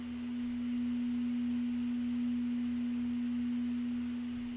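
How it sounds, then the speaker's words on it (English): A struck singing bowl rings as one steady, sustained low tone that holds evenly and loud, with no decay and no voices over it. "This is the singing bowl that I'm playing."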